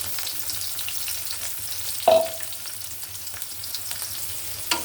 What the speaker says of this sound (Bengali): আমি পেঁয়াজটা ভালোভাবে একটু ভালো করে ভেজে নেব